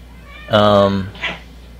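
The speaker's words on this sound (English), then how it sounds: "Sorry about the cats." Two cats make noise indoors: a loud, drawn-out meow lasting about half a second, then a shorter, softer cry moments later, both close by.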